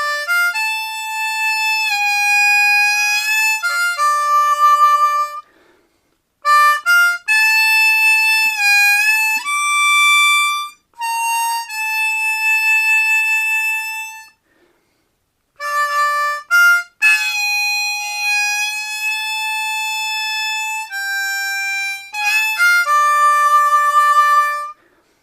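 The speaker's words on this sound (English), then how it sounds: "I'm going to play it in third position. I'm still playing the C diatonic harmonica." Solo C diatonic harmonica playing "St. James Infirmary" in third position, D Dorian minor: clear sustained reedy notes and bent phrases, close and fairly loud, broken by a few short pauses, no voices.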